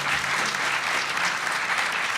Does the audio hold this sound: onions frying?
no